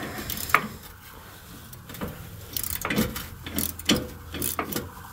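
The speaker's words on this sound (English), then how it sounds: "now we're going back under to remove those bolts. They are 21mm bolts." A ratchet loosens the 21mm bolts on the rear bumper of a 2015-2020 Ford F-150, giving a few separate bursts of clicking and scraping under a vehicle with quiet pauses between them.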